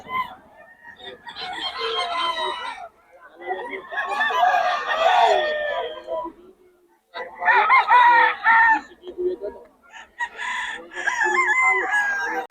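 Several roosters at a chicken farm in Bocaue crow in turn, four long loud cock-a-doodle-doo calls with brief clucking between them, close by.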